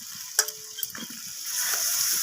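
Eggplant pieces with salt are stirred and fried in a pan, a couple of brief metallic clinks and scrapes over a soft sizzle that swells toward the end.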